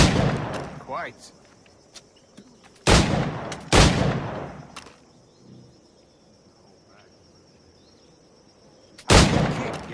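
Pistol shots fired in Assassin's Creed 4 Black Flag, a few loud sharp reports spaced apart over crickets and a quiet ambient backdrop, with a brief spoken word.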